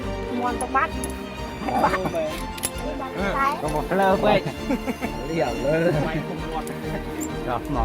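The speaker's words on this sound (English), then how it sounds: "this dog who got stuck in barbed wire and desperately tried to free himself" A dog caught in barbed wire whimpers and yips in repeated high, wavering cries, close and fairly loud, mixed with voices and faint metallic clinks.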